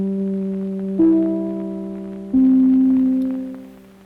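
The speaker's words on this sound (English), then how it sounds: "or NBC's Three Chimes Note." The NBC three-note chime: three sustained chime tones ring out one after another, each note stepping to a new pitch and fading slowly at the end.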